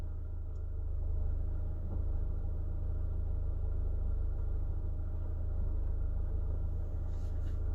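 Fiat 500 with a Selespeed automated gearbox and a flashing engine light, its engine running close by as the clutch is brought to the bite point: a steady, continuous low rumble with no talking.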